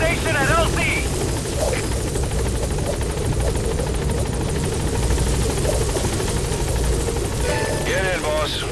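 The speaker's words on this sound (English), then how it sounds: "Support helicopter has arrived." A support helicopter in Metal Gear Solid V: The Phantom Pain arrives at a landing zone, its rotor drone loud and steady throughout, with brief radio voices over it near the start and end.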